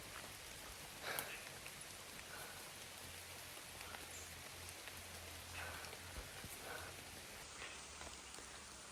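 Heavy rain pours around a forest shelter beside a large tree, a constant soft wash of drops with a few closer patters and rustles, faint and even throughout.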